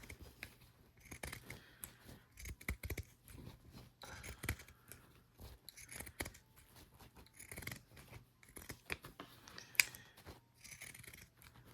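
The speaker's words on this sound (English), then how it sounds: "Pinking shears are not easy to use." Pinking shears chopping through two thick layers of Minky fabric with stabilizer, a steady series of faint, close crunching snips, no talking.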